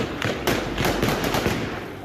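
A rapid series of sharp cracks of Taliban gunshots in Afghanistan, like distant gunfire, popping in quick irregular bursts over a steady background hiss.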